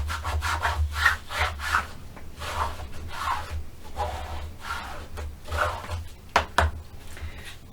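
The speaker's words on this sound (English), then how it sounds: "Burnish real well." Cardstock is burnished onto chipboard with repeated firm back-and-forth rubbing strokes, close and steady over a low hum, with a few sharper taps near the end.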